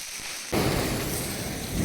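A popcorn firecracker bursts during a family Diwali celebration, a dense crackling roar that starts abruptly and continues steadily, loud and close.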